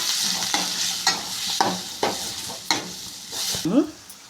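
Turmeric being stirred into a sizzling oil tempering for a gongura leaf dish: a soft continuous fry under repeated scraping strokes of a spoon in the pan, close up, with a final clatter and no speech.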